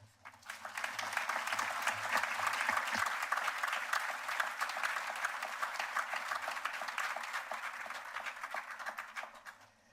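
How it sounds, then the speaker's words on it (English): Applause fills a Bermuda College commencement ceremony, a large audience clapping steadily and densely, swelling quickly, holding for several seconds, then thinning out toward the end. "Can we have another round of applause for Kristen White?"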